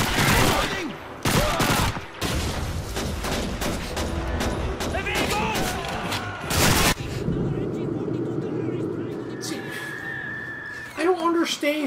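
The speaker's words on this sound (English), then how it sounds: "I'm shooting the fuck out of him!" Rapid gunfire and heavy explosions in the Call of Duty 2 video game on veteran difficulty, with loud sharp shots in bursts and rumbling blasts, someone talking angrily over the battle.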